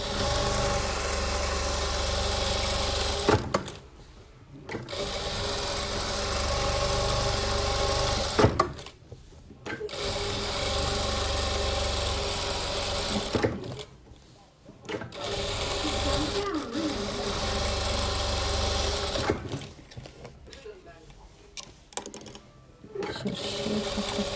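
A sewing machine stitching patchwork pieces runs in several long, loud bursts of rapid steady whirring, separated by short pauses, with speech in the background.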